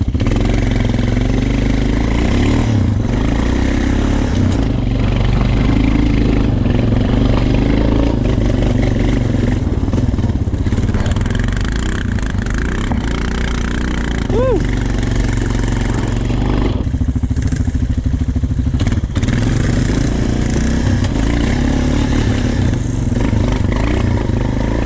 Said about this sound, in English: Even in fourth gear, I can just hit the throttle and it just pulls.